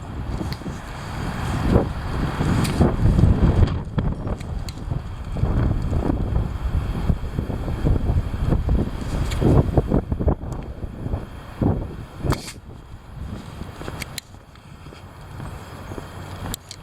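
Heavy wind blowing hard against the microphone, a loud continuous rumbling roar with gusty swells and buffeting for most of the stretch, easing somewhat toward the end, with no voices.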